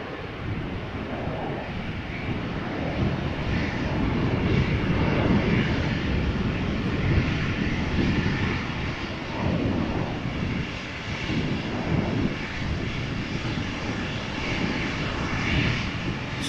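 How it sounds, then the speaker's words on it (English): A KLM Embraer 175 jet roars steadily at Amsterdam Schiphol Airport, loud and continuous with broadband engine rumble and some wind noise throughout. "this is an Embraer 175 from KLM, flight 1187, outbound to Bergen"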